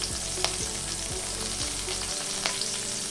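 Garlic and green chilli frying in hot oil on a high flame for paneer fried rice, a continuous bright sizzle with a low hum beneath and a couple of sharp spatula taps.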